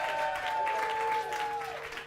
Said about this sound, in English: Let's have another round of applause for Jeffrey Day.